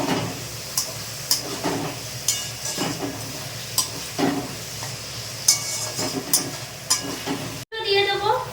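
Potatoes and carrots sizzle in a pan for an egg bhurji while a spatula stirs in quick, repeated scraping strokes, loud and close, ending with a brief cut to a different frying sound.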